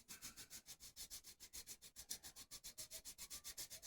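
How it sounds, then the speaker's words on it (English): A guitar nut for a Les Paul Jr is rubbed back and forth on 80 grit sandpaper on a sanding block, a fast steady rasping rhythm of many quiet strokes, close and alone. "we got a piece of 80 grit sandpaper on a sanding block"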